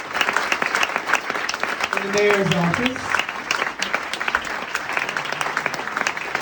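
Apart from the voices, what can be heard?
audience applause for Ned Segal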